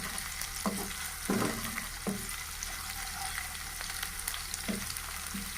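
Cumin seeds frying in hot oil for aloo methi give a steady close sizzle, with a few brief stirring clinks and scrapes in a kitchen and no voices.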